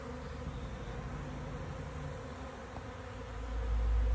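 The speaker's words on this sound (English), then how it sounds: "We are getting the bees backed up." A swarm of honeybees hums in a steady, dense drone that carries unbroken throughout, with a low rumble swelling near the end.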